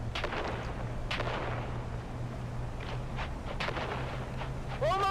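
Grenades go off in a Dune Awakening firefight at an old quarry, with several sharp booming bursts spread across the clip over a steady low hum, and voices calling out between them.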